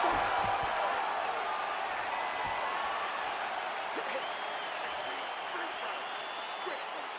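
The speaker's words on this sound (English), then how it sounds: "So the crowd voicing its appreciation after that round." UFC crowd at a Velasquez vs Dos Santos event applauding and cheering after a round, a dense, steady wash of clapping and crowd noise that fades slightly throughout.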